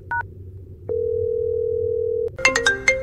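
A telephone line on a phone call gives a short double beep, then a long steady dial tone lasting over a second, followed by a few brighter, louder dialing tones at the end.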